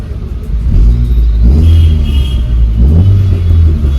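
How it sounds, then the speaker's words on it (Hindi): Skoda Octavia vRS with a Milltek exhaust and remap, engine pulling steadily under acceleration with a deep, continuous rumble and rising revs heard from inside the cabin, intake noise prominent. "इनटेक की ज़्यादा आवाज़ आ रही है."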